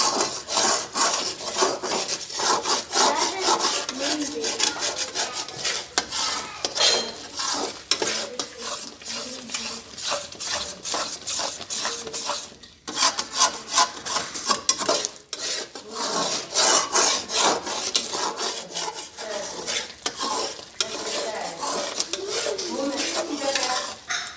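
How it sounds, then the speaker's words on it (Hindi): Besan halwa being stirred with food colour in a pan, a steady scraping and rubbing of the spoon against the pan that runs continuously and close with no talk. "अब हम इसको मिक्स कर रहे हैं।"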